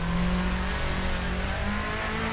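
A 1995 Subaru Impreza WRX STI accelerates hard out of a turn in the racing game Assetto Corsa, its engine note loud and steady as the revs climb, with no talk.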